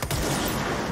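Rapid gunfire from a weapon in the video game Control, a dense fusillade of shots filling the whole second, loud and continuous with no talk over it.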